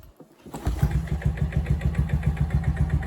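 A 220 dirt bike that has sat unused in cold weather cranks briefly, catches and settles into a steady, rhythmic idle close by, with no voices.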